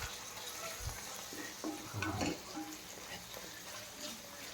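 Catfish in marinade with chili flakes frying in a pan, a steady low sizzle with some stirring and scraping, and a louder burst near the middle.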